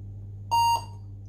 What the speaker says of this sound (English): keep spamming F12 until the computer beeps at me